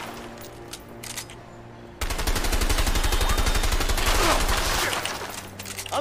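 Rapid automatic gunfire erupts suddenly after a quieter stretch, a dense rattling burst of shots sustained for several seconds before tapering off.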